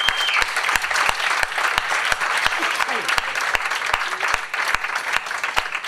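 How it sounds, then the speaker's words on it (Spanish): Sustained audience applause at a talk on Basque whalers, a dense crowd of clapping with steady sharp rhythmic hand claps standing out, loud and continuous throughout. "Por favor, un aplauso para él."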